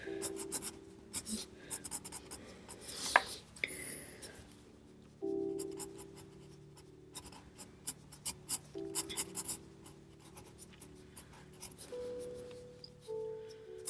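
Pencil sketching on paper for a handmade recipe book, close scratchy strokes in short irregular bursts with pauses, with soft rubbing and paper handling between strokes, no talking.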